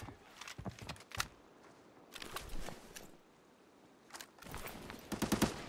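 Gunfire in a first-person shooter game, with bursts of rapid shots in separate clusters, fairly faint with quieter gaps between volleys, the last burst the densest.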